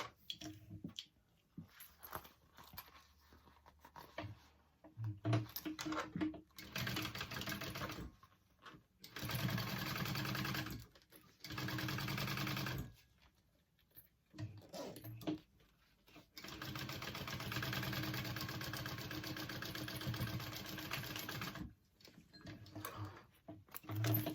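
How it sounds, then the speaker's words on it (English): A sewing machine top stitches along the exterior back piece of a bag, running in repeated bursts of a few seconds with pauses between, close but fairly quiet. "I'm going to top stitch along my exterior back piece."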